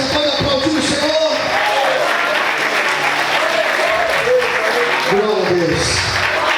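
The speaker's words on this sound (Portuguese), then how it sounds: "Ei, você pode aplaudir o Senhor?" A church congregation applauds in a loud, continuous wash of clapping, with voices and cheers mixed into the sound throughout.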